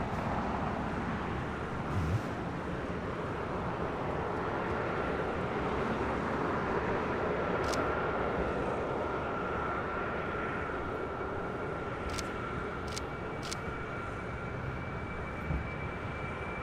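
A Boeing 747, the "Queen", rolls at LAX, heard as a steady, loud, broadband jet roar with a faint rising whine throughout and no talk.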